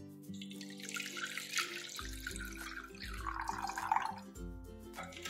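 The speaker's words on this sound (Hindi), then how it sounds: "अब इसमें हम और भी पानी ऐड करेंगे।" Water pours into a paste of amchur (dried mango powder) for sweet-sour sonth chutney, a steady splashing trickle that runs for several seconds under a soft background tone.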